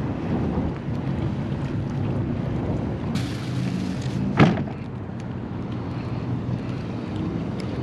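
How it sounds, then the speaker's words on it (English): Steady low rumble of boat engines passing at a distance in Ocean City, Maryland, with a brief louder swell midway, over constant wind noise and no talking. "That's a lot of boat traffic coming through here still."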